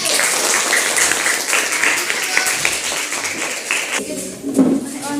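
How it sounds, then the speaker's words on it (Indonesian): A classroom audience claps for a student group, a loud burst of applause that fades toward the end, with voices mixed in. "tepuk tangan buat kelompok 1"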